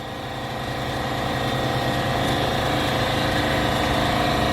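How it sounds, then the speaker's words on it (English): A grinder cutting into rusty school bus walls and floors runs continuously, a dense, steady whirring drone that swells slightly at the start and then holds level and loud. "Here's a grinder."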